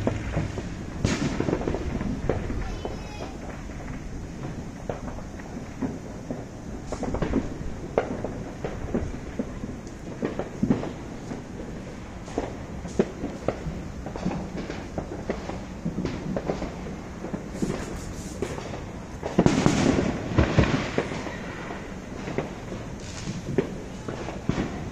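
Independence Day fireworks heard from a deck: scattered booms and crackling pops, some nearer and some distant, sound irregularly over a constant outdoor hiss, with a louder burst near the end.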